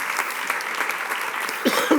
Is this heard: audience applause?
yes